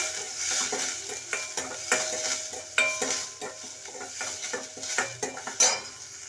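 Sautéing okra in a pan for a tamarind curry, a steady sizzle with frequent sharp scrapes and taps of a metal spoon against the pan in an irregular rhythm, close by and with no talking.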